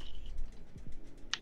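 Close clicking of game controller buttons held near a microphone: soft, rapid taps in a loose run, ending with one sharper, louder click.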